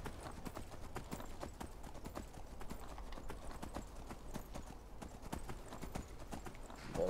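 Horse hooves clip-clop steadily in the video game Skyrim, a quick even rhythm of hoof strikes on the ground continuing throughout at moderate loudness.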